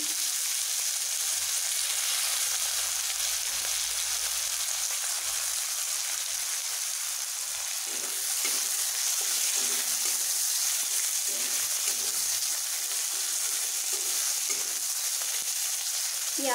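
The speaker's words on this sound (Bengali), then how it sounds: "একটু হালকা ব্রাউন করে ভেজে নেব" Onions fry in an oily pan, a loud steady sizzle with occasional bursts and stirring scrapes, continuing close and unbroken throughout.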